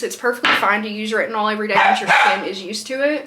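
Several dogs bark and yip repeatedly in a house, close and loud, mixed in with someone talking throughout.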